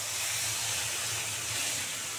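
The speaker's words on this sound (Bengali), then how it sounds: "এবার জল দিয়ে দিচ্ছি, এই যে ছোটো বাটির 1 বাটি জল দেবো" Water splashing into hot fried masoor dal in a pan sets off a loud, steady steam hiss that runs unbroken throughout, with a faint low hum underneath.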